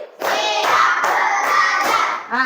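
Classroom clapping in counted sets: five loud, close, sharp claps in an even rhythm, each a crisp burst ringing briefly before the next, ending with a short vocal sound.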